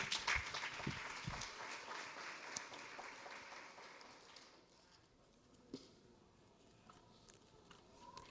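A church congregation applauds during a worship service, a moderate burst of clapping at the start that thins out and fades within a few seconds, leaving quiet room noise with scattered taps.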